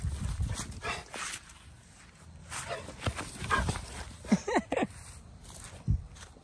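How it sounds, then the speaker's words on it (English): A dog moves about nearby with shuffling steps, then gives a few short, sharp barks and yips toward the end. "I love this dog."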